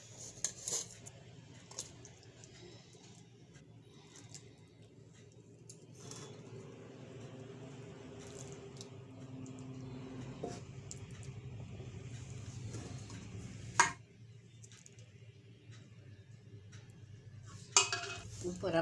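A spoon quietly scrapes and clinks against a pot while cooked Gujarati guvar (cluster bean) curry is served, soft metallic taps with a couple of sharper knocks in a hushed kitchen.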